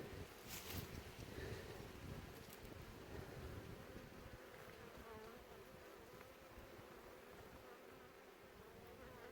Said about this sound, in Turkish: Şu an arı yoğunluğumuz da fena değil.